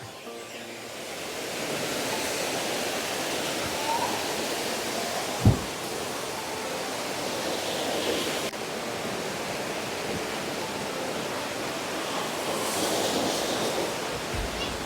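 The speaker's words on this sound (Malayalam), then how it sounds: "ഇവിടെയാണ് വെള്ളം ചാടുന്നത്." Waterfall in snowy winter Scotland, heard up close as a steady, loud broadband roar of falling water with wind mixed in, continuous throughout with one brief thump partway.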